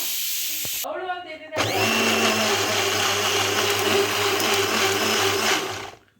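A small Prestige mixer grinder starts with a click and whirs loudly and steadily for several seconds before shutting off; brief rattling beforehand.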